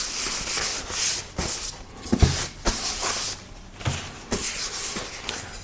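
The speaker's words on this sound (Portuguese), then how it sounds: "temos o nosso painel já lixado" Sandpaper rubbed back and forth across a smooth MDF panel, about a dozen close, raspy strokes in an uneven rhythm with light knocks between them, and no voices.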